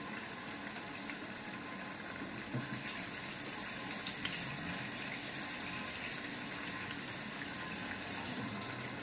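A kitchen tap runs in a steady, even stream as flour is washed off hands, a continuous close gush of water with no pauses.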